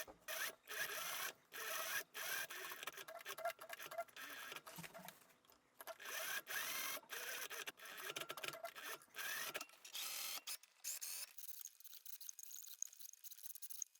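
A sewing machine top stitches close along the edge of a dress collar seam on a large ruffled summer dress, running in quick bursts with short pauses before fading out near the end.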